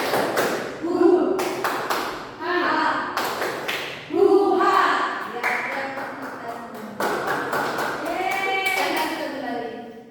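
A classroom of students claps on the teacher's count, bursts of sharp hand claps falling in short rhythmic groups, with the teacher's voice speaking between and over them.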